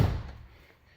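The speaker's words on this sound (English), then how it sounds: "when you close the door" A single dull thud of a Geo Spectrum car door being shut, close and fairly loud at the start, then fading quickly into quiet.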